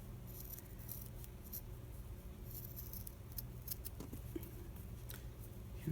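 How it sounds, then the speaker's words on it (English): Scissors snip through folded paper, cutting it into a flower shape during a stamp-making craft; soft crisp snipping repeats steadily and close up, with no talking. "then we'll cut it into a flower, just the way that we would cut paper flowers"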